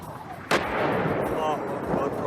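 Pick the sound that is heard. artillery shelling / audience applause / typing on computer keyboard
artillery shelling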